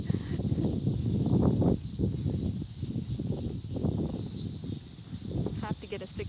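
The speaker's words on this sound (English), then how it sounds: "Yep, that's the sound of summer." Cicadas drone loudly and without a break in a Tokyo park in summer, a dense high shrill buzz held steady over rustling steps and a low, muffled murmur nearby.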